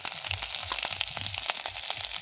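Ginger, garlic, cumin and mustard seeds frying in hot oil for a prawn sour curry, close, busy crackling and popping with quick irregular spits over a steady sizzle.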